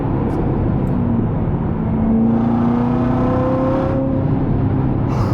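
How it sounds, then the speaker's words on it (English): A Corvette C7 ZR1 with about 52,000 miles pulls hard in third gear. The engine roars loud and near from the cabin, its pitch rising through the run and surging midway. "Third gear has all the power and torque you need."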